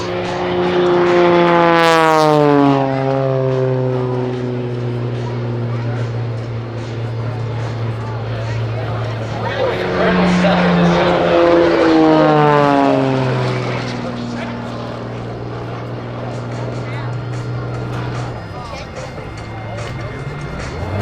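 A small aerobatic propeller plane flies slowly at a high angle of attack during an air show opening at a Marine Corps air station. Its engine drone is loud and close, with steady harmonics that sweep down and up as the aircraft passes and turns, under a commentator's voice.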